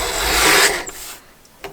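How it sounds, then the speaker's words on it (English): Scissors or a blade trimming a strip of paper from a book-folding pattern: a brief rasping cut that rises, then fades, followed by a faint snip or rustle. "I'm gonna trim this off"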